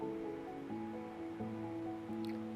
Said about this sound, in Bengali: বাকি তেলটুকুতে দিয়ে দিচ্ছি পেঁয়াজ কুচি, রসুন কুচি ও কাঁচামরিচ কুচি।